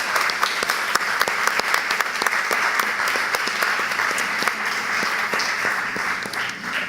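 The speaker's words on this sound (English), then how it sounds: "I just want to applaud all of our groups just one more time." Audience applause at a school district board of education meeting, honoring district groups: steady, dense clapping from a crowd that carries on for several seconds with a few sharper claps standing out, no voices over it.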